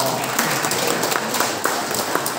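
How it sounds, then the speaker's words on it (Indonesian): An audience at a community mosque gathering about BPJS applauds a speaker, giving a continuous, even wash of many hands clapping at close range, steady and loud for the whole stretch. "Sekali lagi tepuk tangan untuk Pak Tok."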